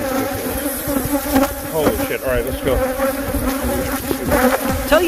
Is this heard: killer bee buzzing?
yes